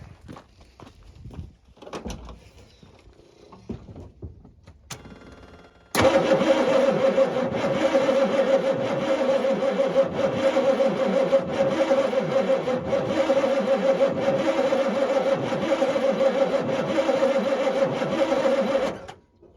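A diesel dump truck engine cranking over after a few seconds of quieter shop noise, the starter and engine churning loudly and steadily for about thirteen seconds before cutting off.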